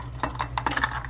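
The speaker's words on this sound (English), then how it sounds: "my half a cup of oatmeal, and we're gonna dump it" Half a cup of oatmeal is dumped into a cooking pot with a quick series of light metallic clinks and taps, close by, over a faint low hum.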